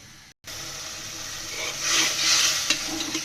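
Spice paste frying in oil while a spoon stirs it, a steady close sizzle that swells in the middle with scraping strokes, after a brief silence at the start.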